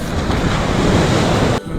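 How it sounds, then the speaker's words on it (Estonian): Warm seaside surf rushes in a steady, loud wash of breaking waves with some wind noise against the microphone, no voices present. "vesi on soe ja ilusad lained"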